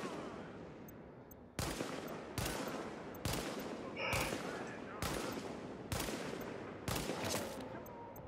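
Gunfire in The Division video game: sharp, loud shots come roughly every second, each trailing into a wide rumbling decay, over a steady background hum with no talk.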